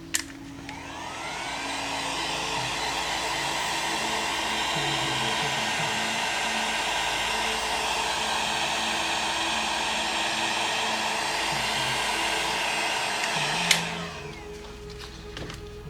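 Hair dryer or heat gun blowing hot air onto a vinyl skin on an Apple Magic Mouse, a loud steady whooshing roar lasting about thirteen seconds before switching off with a click.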